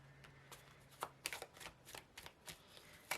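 Tarot cards being shuffled by hand, a soft papery riffle of light slaps and flicks in an uneven rhythm, close and quiet with no talking.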